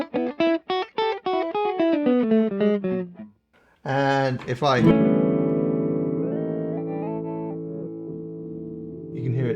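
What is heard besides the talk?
Chase Bliss Audio Mood MK II pedal changing pitch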